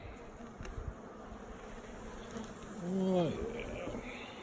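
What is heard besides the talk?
bees buzzing at a beehive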